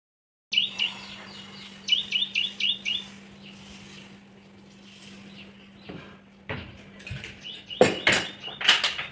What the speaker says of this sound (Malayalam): രാവിലെ ആവുകൊണ്ട് തന്നെ പലവിധ കിളികളുടെ സൗണ്ട് കേൾക്കാൻ വേണ്ടിയിട്ട് പറ്റും കേട്ടോ.